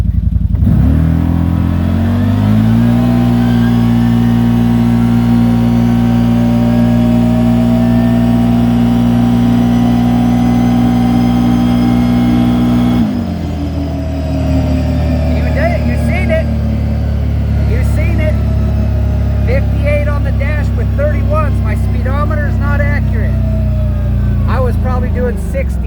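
A Kawasaki Z-950 H.O. EX side-by-side fitted with an RNG full clutch kit accelerates hard, its engine droning loud and steady before a shift and a renewed climb, with wind noise and talk over it.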